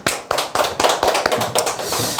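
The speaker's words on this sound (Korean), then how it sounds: "네, 박수를 한번 치시죠." An audience claps in quick, uneven bursts, with sharp hand slaps close by that loosen into scattered applause.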